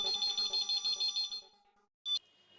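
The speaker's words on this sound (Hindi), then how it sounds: "पापा ने फोन उठाया" A telephone rings at an electronics shop in a repeating electronic pattern of short pulses, fairly close and clear. After the ringing stops there is a brief pause, then one more short tonal burst.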